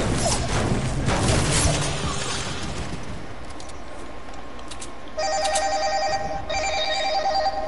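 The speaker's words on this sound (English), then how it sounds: "You gotta chill out with that ringtone." A phone ringtone starts after a stretch of loud, clattering noise and rings in bright repeated bursts near the end, with no talk over it.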